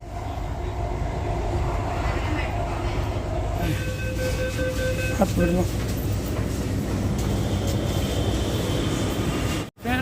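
A Delhi metro train in motion, its steady rumble and whine filling the car around a short spoken phrase, with tonal hums rising partway through and a sudden brief dropout near the end.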